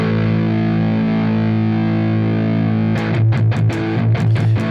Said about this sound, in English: it's a really sonically rich distortion.